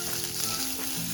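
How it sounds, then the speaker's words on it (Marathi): Sesame seeds and cumin sizzle and crackle in a hot pan for a soybean curry, a steady close frying hiss with no voices. "परतून घेतो यामध्ये पॅनमध्ये"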